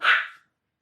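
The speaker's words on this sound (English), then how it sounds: "excuse my dog in the background just barking at her mom." A single short, sharp dog bark, fairly loud and close, heard on its own and fading quickly into silence.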